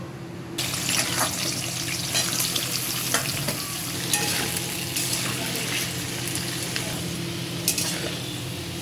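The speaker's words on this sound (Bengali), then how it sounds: "প্রথমে আলু ভেজে নেব।" Potatoes fry in oil in a wok, giving a steady close sizzle and crackle that runs throughout after a short quiet start, with scattered clinks of a utensil stirring.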